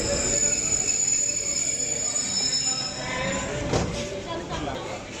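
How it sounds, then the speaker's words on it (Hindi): The Jaffar Express passenger train pulling into Sahiwal railway station, a steady loud rumble of rolling carriages with high metallic wheel whine and occasional clanks, close by and continuous. "अब जाफर एक्सप्रेस पहुंच चुकी है साहिवाल रेलवे स्टेशन"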